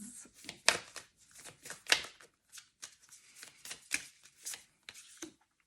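Oracle cards shuffled by hand in quick, uneven bursts of crisp papery flicks and slaps, close and fairly quiet with brief gaps between riffles and no talking.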